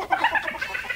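A person imitates a chicken's clucking with a quick series of short, nasal clucks, moderately loud and close, with no other talk over it.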